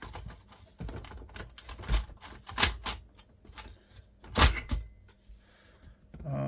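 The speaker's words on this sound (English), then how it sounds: "I can show you it actually lacing up as well. So eject, put a tape in." Philips VR2021 VCR ejecting, loading and lacing a tape, close mechanical clicks, clunks and motor whirs in irregular bursts, with a few louder thuds of the cassette mechanism.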